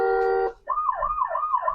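A children's ride-on toy car switches on with a steady electronic tone, then sounds a wailing siren that rises and falls in quick cycles, close and fairly loud.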